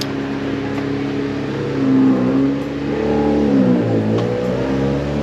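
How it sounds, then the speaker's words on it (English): A car accelerates past on a residential street in Juneau, Alaska, its engine tone rising and falling in two swells as it passes fairly close, with no one speaking. "That's not a plane, that's a car."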